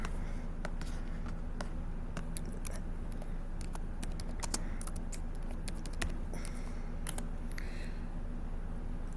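Someone types a name on a computer keyboard, producing irregular, sharp key clicks in quick runs over a constant low room hum, close by and fairly clear.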